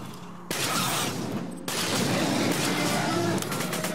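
Rapid gunfire bursts from a Borderlands 2 video game fight, a dense loud barrage that steps up in intensity and continues steadily under game noise, with a voice speaking over it.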